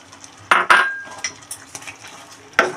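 A spoon knocks and scrapes against a pan while previously fried fish head is stirred in for Bengali chhyachra, with a few sharp clinks over a quiet background and no talking.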